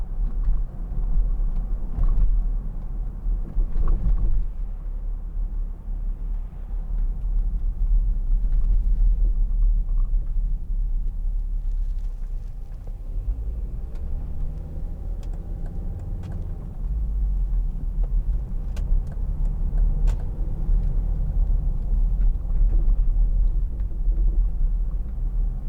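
A 2005 Volvo XC90 2.4 D SE diesel on a test drive gives a low, steady cabin rumble of road and engine noise throughout, moderately loud with faint swells and no speech.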